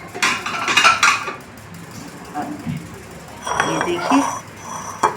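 Rasmalai kheer spooned out of a cooking pan into a serving dish, with light metallic clinks and scrapes of spoon against pan while someone talks.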